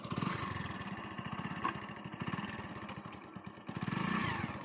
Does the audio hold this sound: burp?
no